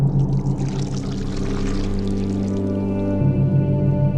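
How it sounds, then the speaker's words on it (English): Chocolate drink poured from a height between two tall cylinder jars, making a steady, full, continuous splashing gush that runs unbroken and close with no voices. "one might be placed on the ground and the other used to pour from a height, creating this cascading waterfall of chocolate with bubbles"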